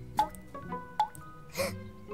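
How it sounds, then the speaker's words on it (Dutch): A leaking kitchen tap in a children's cartoon, three distinct water drips spaced about evenly, each a bright plinking drop with a short watery splash, close and clear against a quiet background. "Wat hoor ik toch druppelen?"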